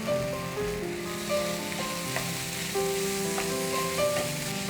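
A stuffing of leftover rice, onion and Schezwan sauce fries in a pan with a constant moderate sizzle. Faint stirring taps and a thin melodic background tone run under it, with no voices.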